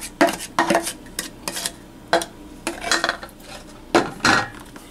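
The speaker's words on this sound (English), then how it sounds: "Just use your spatula and mix it thoroughly." A spatula scrapes and knocks against a bowl while mixing banana bread batter, giving a series of close, irregular clinks and scraping strokes with short pauses between them.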